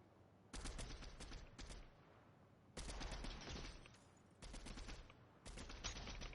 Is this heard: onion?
no